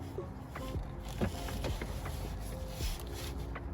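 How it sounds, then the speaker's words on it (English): A new oil filter being threaded by hand onto the engine of a 2020 Honda Civic during an oil change: close, quiet scraping, creaking and light clicking of metal and rubber, with no speech. "Screw in the new oil filter onto the engine by hand"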